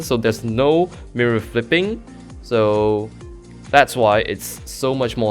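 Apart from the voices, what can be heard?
No distinct noise like a dog, phone or traffic.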